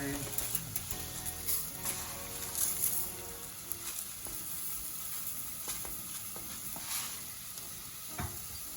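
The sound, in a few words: lentils sizzling, frying with onions and garlic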